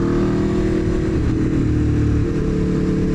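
Aprilia RSV4 Factory and Ducati Panigale SP2 sport motorcycles riding on Arizona roads, with a loud, steady engine drone and a slight shift in pitch partway through.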